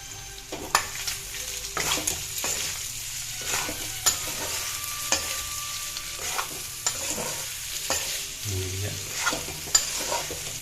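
Pork fries without oil in a pan, a steady sizzle broken by repeated sharp scrapes and clacks of a stirring utensil, close and clear, with no talking.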